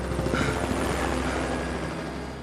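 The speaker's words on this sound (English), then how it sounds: "Tourist helicopters continue to fly by, and Dewey still has no way of attracting th" A tourist helicopter flies by over volcanic terrain, its steady rotor thrum and engine drone sustained throughout at moderate distance with no voices.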